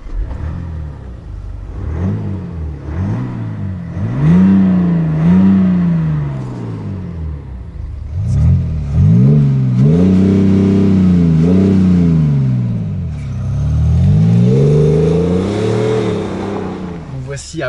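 A 2018 BMW X5 M50d diesel engine revs repeatedly, partly played through the car's speakers, climbing and falling in loud, close bursts with a steady idle between them.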